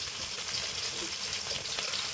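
Tomato with turmeric and spices fries steadily in a pan, a continuous close sizzle with no talk.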